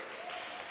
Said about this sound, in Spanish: Dale fuerte las palmas al Señor, aleluya, a su nombre